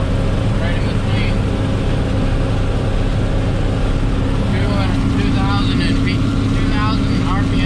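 John Deere 4430 tractor pulling a disc through wet, grassy ground at about 2,000 RPM, a loud constant low engine drone close by with steady hum throughout, and chirping birds faintly above it.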